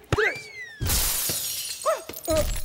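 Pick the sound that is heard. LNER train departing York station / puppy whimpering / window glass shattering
window glass shattering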